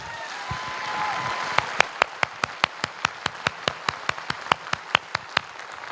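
Audience at a Safe Shop success-story seminar clapping in unison: after a brief stretch of murmur, sharp, evenly spaced claps ring out in a steady, brisk rhythm, loud and alone, until the end.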